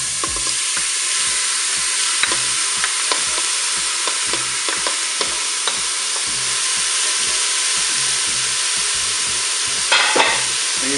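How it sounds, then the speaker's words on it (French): Minced beef browns in a Cookeo multicooker, a loud steady sizzle and hiss throughout with small scraping stir noises scattered over it, close up and without speech. "je vais pouvoir ajouter ma viande hachée"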